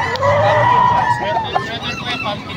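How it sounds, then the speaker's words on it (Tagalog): Chickens cluck and squawk at a busy Calumpit pet market, heard close under steady crowd chatter and nearby talking. "Tingnan natin yung mga manok ni Kuya."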